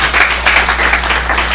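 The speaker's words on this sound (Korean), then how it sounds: "박수 쳐주시죠." An audience claps at a biodiversity workshop after a talk, a dense steady round of applause heard up close that carries on evenly without any voices over it.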